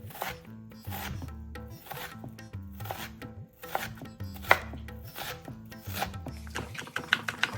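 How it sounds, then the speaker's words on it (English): A knife chopping an ingredient finely on a board for a Trinidad aloo pie, quick rhythmic close taps in steady runs with brief pauses, set against a quiet background music bed. "Chop it as fine as you can, unless you like it chunky."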